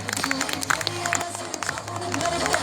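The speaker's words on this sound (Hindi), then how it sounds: "एक बार जोरदार तालियां" Audience applause for a performer on a stage showing tribal tradition and costume, a brief burst of crowd clapping mixed with cheering and background commotion.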